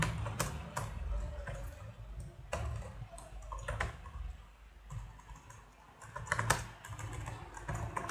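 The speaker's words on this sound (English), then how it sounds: "So we can type another line" Typing on a computer keyboard: irregular runs of clicky keystrokes with short pauses between bursts, close and at moderate loudness, with no talking.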